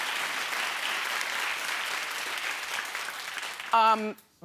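A short burst of clapping comes in near the end, loud and close, after a stretch of steady crowd-like noise.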